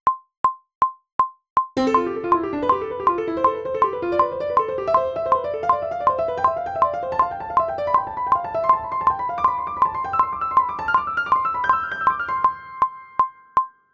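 Up-tempo jazz played over a metronome clicking on beats 2 and 4, with sharp, evenly spaced clicks alone at first, then running steadily beneath busy, rapid instrumental lines and continuing alone at the end.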